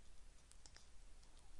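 A computer mouse in Flash Builder software gives a few faint, quick clicks in a short cluster, alone in a quiet room.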